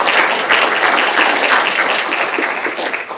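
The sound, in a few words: audience applause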